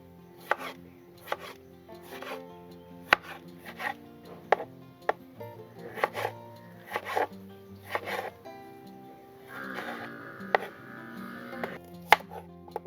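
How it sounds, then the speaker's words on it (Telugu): A knife chops tomatoes into small pieces for a village-style brinjal and tomato curry. The crisp taps come in uneven bursts with pauses, over soft background music. "టమాటాలు కూడా చిన్న చిన్న ముక్కల కింద కోసేసుకోవాలండి."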